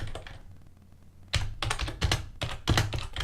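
Bursts of clattering keystrokes on a computer keyboard while code is entered, loud and close, in uneven clusters after a brief quiet pause.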